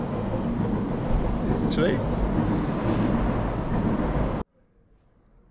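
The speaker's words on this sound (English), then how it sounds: "this was a little tram system" A small tram or metro train in Genoa, Italy, rumbling loudly and steadily up close with a faint wheel squeal, then cutting off abruptly near the end; a voice speaks briefly over it.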